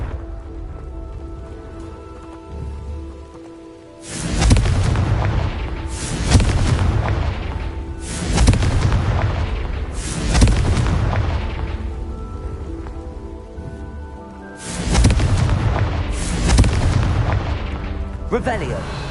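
Confringo blasting spell explosions in Hogwarts Legacy, a series of about six loud booming blasts with crackling, rain-like debris tails, the first few arriving in quick succession after a quieter ambient stretch, then a pause before two more.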